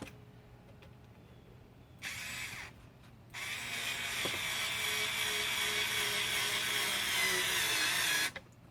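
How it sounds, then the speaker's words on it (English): A SKIL 4V Pivot Grip USB rechargeable cordless screwdriver drives a 1-inch screw into a 2x4. A short whir comes first, then a pause, then a sustained high motor whine for about five seconds that stops abruptly, close and alone. "let's start off with the 1-inch screw right into the 2x4 here"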